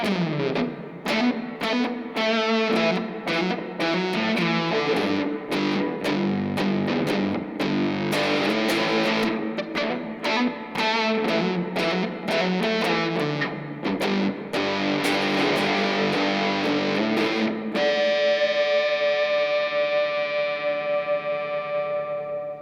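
A heavily distorted electric guitar plays a quick single-note line with choppy, separated notes, ending on a long sustained ringing note.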